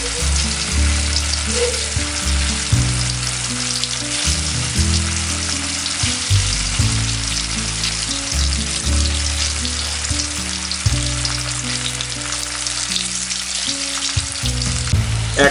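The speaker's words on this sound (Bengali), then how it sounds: "এরপর আমরা পনিরগুলোকে ভেজে নেব মিডিয়াম আঁচে" Paneer cubes frying in oil over medium heat, a loud, continuous close-up sizzle with no talking, over soft background music.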